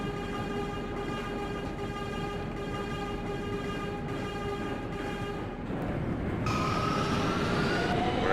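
A subway train runs on the G line toward Court Square in the OpenBVE simulator, a steady rolling rumble with tonal motor whine, shifting partway through as the running sound changes. No talking.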